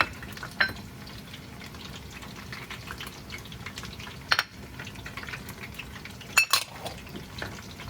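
Garlic and ginger fry in oil in a pan, giving a steady faint sizzle. A few sharp utensil clinks against the pan cut through it at scattered moments.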